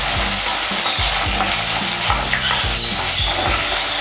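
Chopped shallots with green chilli and curry leaves sizzling loudly in hot oil while being stirred, steady bright frying hiss with repeated low scraping strokes of a spoon against the pan, for a Chettinad crab masala.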